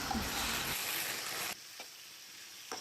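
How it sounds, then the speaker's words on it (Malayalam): Tomato and spice masala sautéing in a pan for chicken biryani, a dense sizzle that cuts off abruptly, leaving quieter pan noise and a couple of faint knocks. "നമ്മളങ്ങനെ ഇതെല്ലാം വഴറ്റി സെറ്റാക്കി."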